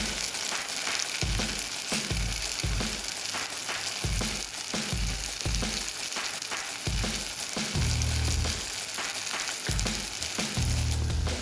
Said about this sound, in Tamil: தக்காளி பூண்டு கருவேப்பிலை இதெல்லாம் போட்டு வதக்கிக்கோங்க